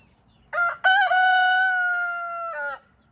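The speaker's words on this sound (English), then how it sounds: "All the chickens are out here now." A backyard rooster crows once, loud and close, a long drawn-out call with a short break near the start, in otherwise quiet garden surroundings.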